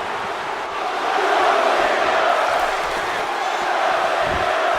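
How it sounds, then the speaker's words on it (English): Arena crowd in the WWE 2K17 wrestling game chanting for Dolph Ziggler, a broad steady roar of many voices that swells slightly and holds loud throughout. "This crowd again with the Let's Go Ziggler chants"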